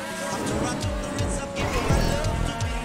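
A race car in GTA Online slowing into a dangerous bend during a stunt race, engine droning steadily with repeated downward-swooping tones and faint tire squeal, continuous and close.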